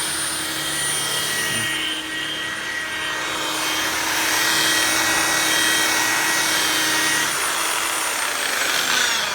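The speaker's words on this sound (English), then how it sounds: "So now I got all the sanding done. Now we're polishing it." A loud, steady whine of a machine polisher working a freshly sanded custom Jeep hood, droning continuously with a slight shift in pitch partway through.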